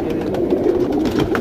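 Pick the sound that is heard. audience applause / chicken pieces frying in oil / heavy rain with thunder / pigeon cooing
pigeon cooing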